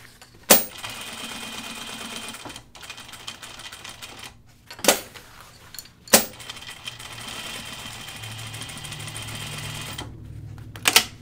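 A sewing machine stitches denim for Ginger jeans in long continuous runs, broken by brief stops and a few sharp clicks, close and steady throughout.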